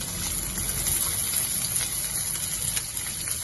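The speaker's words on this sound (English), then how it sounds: "Okay, we are going to fry it." Chicken offal frying in hot oil in a wok, giving a steady, loud, close sizzle that runs unbroken throughout with no voices.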